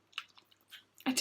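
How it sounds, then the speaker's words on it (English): Several soft, wet squelching bursts, like a mouth chewing, spaced irregularly before a louder, denser wet smack at the end, in music. "making weird chewing sounds"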